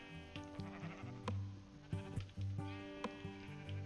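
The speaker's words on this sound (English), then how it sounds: "Alright, all of you green sheep" Several sheep in the Minecraft video game bleat in overlapping, repeated calls at close range, alongside background game music.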